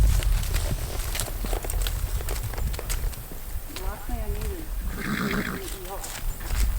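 A horse whinnies partway through, with hoofbeats and outdoor noise mixed under people talking.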